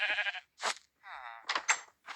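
Sheep in the video game Minecraft bleat several times in short, wavering baa calls, close and fairly clear, with brief breaths or rustles between them.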